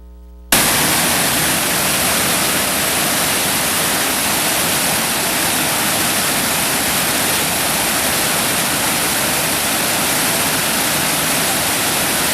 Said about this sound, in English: picture showing the flow of the waterfall, probably after some heavy rain or so forth